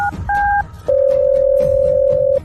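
Telephone tones: a brief two-tone beep, a short pause, then a long steady ringback or dial tone running to the end, clear and close.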